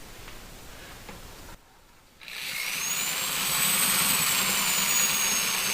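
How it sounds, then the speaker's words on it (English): A power drill spins a blade-style mixing attachment to stir wine made from fruit concentrate, a loud whirring motor that drops out briefly, then restarts and climbs to a steady high-pitched whine with a rising tone. "It's a thing that when it's attached to a drill, these blades here open up and then it spins it and then it really circulates."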